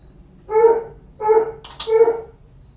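A pet dog at home barks three times in quick succession, each a short, loud, close woof with a bright yelping edge and brief pauses between, no talking over it.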